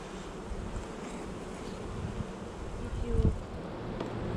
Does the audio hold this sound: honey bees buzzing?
yes